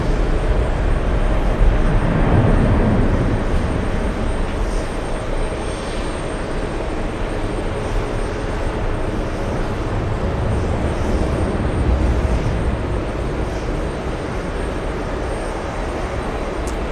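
An Aer Lingus airliner lifts off at JFK, its engines a loud, continuous rumbling roar that holds steady throughout with no voices over it.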